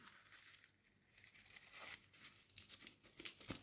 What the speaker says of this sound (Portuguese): Agora vamos cortar no meio de novo